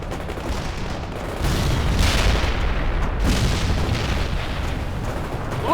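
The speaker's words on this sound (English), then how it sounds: "Launch a grenade now!" Grenade blast in the real-time strategy game World in Conflict during a battle, a deep booming explosion that rises and then rolls on as a low rumble amid continuous distant artillery-like battle noise.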